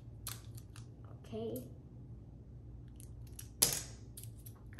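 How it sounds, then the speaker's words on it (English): A couple of quick scissor snips cut through tape, crisp and close, with a short spoken word in between. "We're gonna cut it with the scissors."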